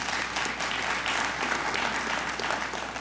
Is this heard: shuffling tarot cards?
no